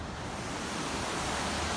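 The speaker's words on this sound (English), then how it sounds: "This is one creek." A flowing neighborhood creek in September, a steady broadband rush of moving water that stays even and continuous throughout, close to the microphone with no voices.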